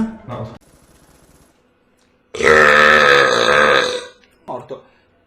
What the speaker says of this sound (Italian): Farò vedere in live una tripletta di rutto